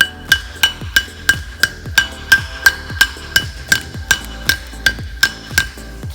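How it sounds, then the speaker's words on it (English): A rubber mallet taps a part into place during a flywheel and clutch install on a Honda Civic Si transmission. About fourteen crisp, evenly spaced knocks come close and alone, one roughly every half second. "we just give it light little taps with the hammer to seat it in"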